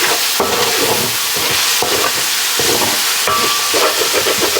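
A pan is scraped steadily while wine deglazes it for a chicken curry, with a constant loud sizzle and hiss and repeated rough scraping strokes close up.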